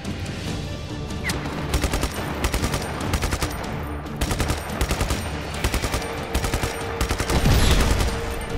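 Gunfire and blasts at a military base in the open-world action game Just Cause 3: steady, rhythmic bursts of rapid shots, loud and close, with a deeper rumbling boom near the end and no voices.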